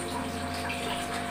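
An aquarium powerhead pump runs submerged in a tank, giving a steady, even watery hum and churn with a constant low drone throughout.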